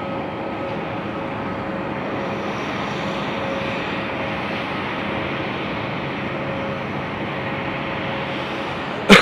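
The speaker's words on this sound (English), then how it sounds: "we got a takeoff coming, ladies and gentlemen." Airplane engine roar at Haneda Airport in Tokyo, a steady distant jet rumble heard from inside the terminal, fairly constant in level without a clear buildup.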